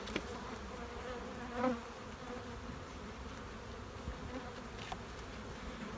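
Honeybees buzzing around a beehive during hive work with a ventilation shim, a steady, fairly faint drone with one brief louder pass of a bee close by.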